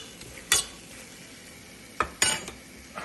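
Salt being stirred into garlic and onion cooking in a pan: a soft low sizzle with three distinct spoon scrapes against the pan, one early and two close together later.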